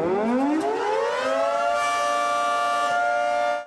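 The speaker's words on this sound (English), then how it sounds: "you want that fire whistle to blow" A fire station's civil defense siren winds up from a low growl to a loud, steady, sustained wail with no talk. It holds its pitch before cutting off abruptly.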